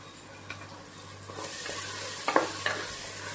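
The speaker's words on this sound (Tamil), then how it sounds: "கத்திரி தக்காளி பழம் நல்லா மைய சுருளை வதங்கணும்." Tomatoes sauté in a pan for a country chicken gravy, giving a soft, continuous sizzle with a few close scraping stirs near the end, and no voices.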